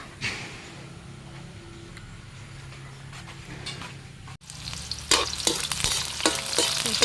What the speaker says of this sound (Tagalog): Naglagay natin yung mga kapangit na mantika. So yun, magigisa na tayo.